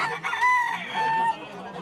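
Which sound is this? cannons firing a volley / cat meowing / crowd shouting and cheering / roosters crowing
roosters crowing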